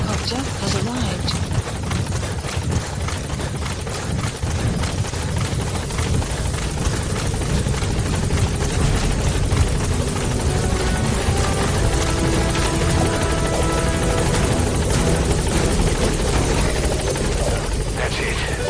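Support helicopter from the Metal Gear Solid V video game arriving at a landing zone, its rotor chopping steadily and loudly throughout with game radio voices talking over it.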